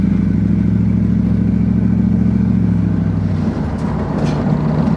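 A Chevrolet S10 truck with an LS engine pulls along in first gear, its loud, low engine rumble droning steadily up close before the pitch shifts slightly near the end.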